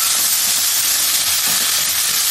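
Spinach and mustard seeds sizzle loudly in a hot pan while being stirred, producing a dense, continuous frying hiss with faint scraping underneath.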